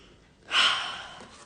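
One audible inhale rises quickly and then tapers off over about a second, soft and close, with no speech over it.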